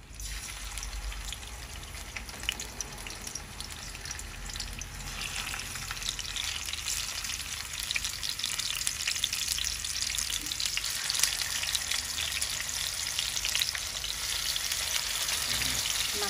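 A river-fish head fries in hot oil in a home kitchen, with a continuous dense sizzle and crackle heard close, steady throughout and free of talk.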